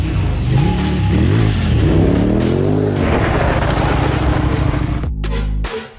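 A KTM motorcycle engine revs hard on the throttle, loud and close, its pitch climbing and falling through several swells before a quick rise and cut-off near the end, with no talk.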